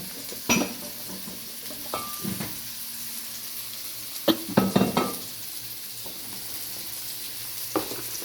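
Water poured into a hot frying pan gives short bursts of sizzling and hiss between clinks of a pot and utensils, close and fairly quiet, with no talking.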